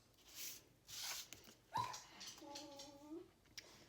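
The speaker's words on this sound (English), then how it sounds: "you can hear one of my dogs in the background. She's fussing." A dog whimpers and fusses in the background of an indoor crafting room, with a few faint yips and a short rising whine, quiet and somewhat distant.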